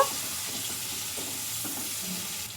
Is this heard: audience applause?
no